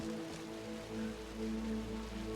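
Quiet, steady rainfall patters softly and continuously in a video game scene, faint and even with no voices.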